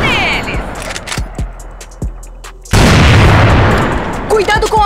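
Gunfire and explosions in a first-person shooter video game: sharp repeated gunshot cracks, then a loud sustained boom and blast noise, with brief shouted voices near the end.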